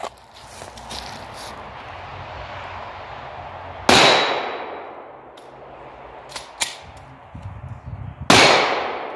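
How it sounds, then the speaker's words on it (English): Pistol shots fired at a small target outdoors during concealed-carry training, three sharp loud cracks spaced several seconds apart, each with a decaying echo, over quiet outdoor background and faint footsteps. "Take the shot at this small target over there."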